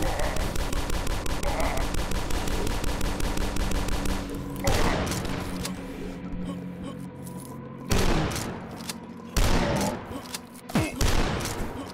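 Gunfire in the video game DUSK while killing enemies: a rapid, sustained burst of loud shots for several seconds, then heavier single blasts and booms spaced apart.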